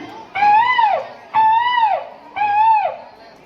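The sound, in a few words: child imitating a peacock call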